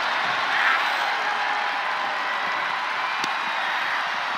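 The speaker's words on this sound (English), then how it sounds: "Say what you will about her, but Little Miss Bliss has this crowd in the palm of her hand." A wrestling arena crowd at a WWE mixed tag match makes a steady, distant roar of cheering with no distinct peaks, and no clear talk over it.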